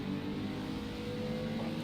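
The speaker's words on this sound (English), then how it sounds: "Just watching some of the cars go around the track here. Listen to the noise." GT4 race cars circling a track in a racing video game, a steady mid-pitched engine drone holding a constant tone as the cars run, with no talk over it.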